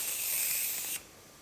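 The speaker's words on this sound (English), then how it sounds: "Let's spray some more." A steady, hissy spray runs for about a second, then cuts off abruptly, leaving near silence.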